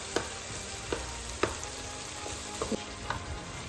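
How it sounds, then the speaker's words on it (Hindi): Chicken and chickpeas frying in a pan, a steady soft sizzle broken by several sharp scrapes and knocks of a spoon stirring against the metal, close and fairly quiet with no voices. "और फिर मैं इसको पाँच मिनट के लिए ना अच्छे से भूनूँगी"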